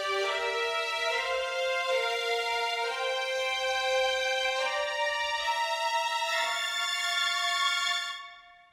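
High-octave orchestral strings in a film score mix, bright sustained bowed chords with shifting swells, loud and continuous before fading out at the end, no voices.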